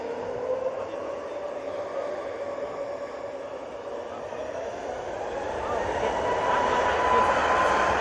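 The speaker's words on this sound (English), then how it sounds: "Just arriving now. We have the RyanAir from Dublin." A Ryanair jet from Dublin arriving at Manchester Airport, a steady engine drone with a tonal whine that grows slightly louder near the end, with a voice talking over it at times.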